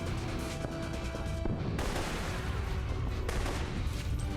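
Rapid gunfire from a turret in the Alpha Protocol video game, dense crackling bursts that break off briefly and resume, loud and continuous.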